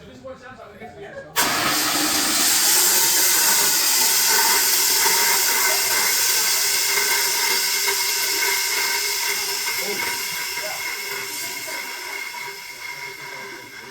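A fire extinguisher discharges in a loud, steady hiss that bursts on suddenly and runs for a long stretch, slowly fading as it empties, close and dominant over faint background voices.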